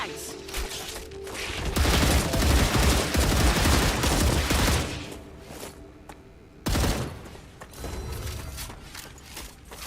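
Sustained bursts of rapid gunfire in the video game Star Rupture, dense and loud for several seconds, with a short lull followed by another sharp volley and more shooting.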